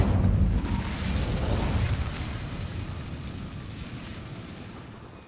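The Incendio fire spell in Hogwarts Legacy bursts out as a loud, close whoosh and roar that slowly fades over several seconds.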